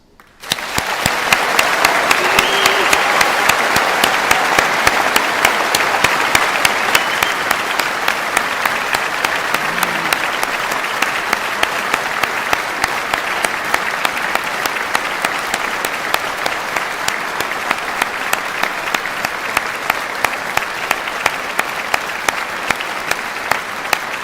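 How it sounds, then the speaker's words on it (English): A large crowd gives a long round of applause for new graduates at a graduation ceremony, loud, dense and steady clapping that swells quickly and carries on without pause, accented by sharp, regular beats. "a huge, memorable round of applause for all of our new graduates"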